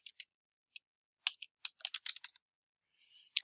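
Fingers typing on a computer keyboard, scattered clicky keystrokes in short irregular bursts, close and fairly quiet, with a brief soft rustle near the end.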